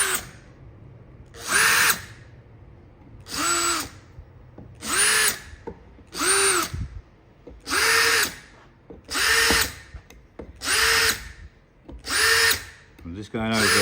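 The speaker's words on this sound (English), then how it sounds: "I'm just going to countersink them" A power drill countersinks screw holes in wood during carpentry joint work, running in about eight short, loud whirring bursts separated by brief quiet gaps.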